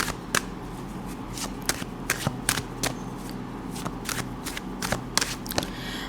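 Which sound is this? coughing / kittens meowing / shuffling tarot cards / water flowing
shuffling tarot cards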